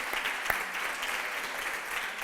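An audience claps after a talk in Oviedo, Spain, a dense, steady patter of applause from a crowd throughout, fairly loud with one sharper clap near the start.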